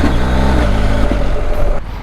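BMW R1250GS TE Triple Black motorcycle engine droning loudly up close, its note easing off near the end with slight crackles, no voices present.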